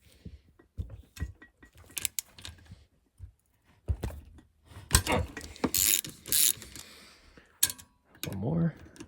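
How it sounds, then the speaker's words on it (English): A ratchet cranks on engine head bolts during a teardown, giving quiet, uneven bursts of sharp clicking with pauses between strokes and some louder metallic rattles partway through. "I'm just breaking them loose because then I'll pull the ratchet off and just use my hands to"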